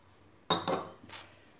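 A spoon clinks twice against a bowl while ingredients including cornflour and milk powder are mixed, a pair of bright metallic taps followed by a faint scrape, close and quiet.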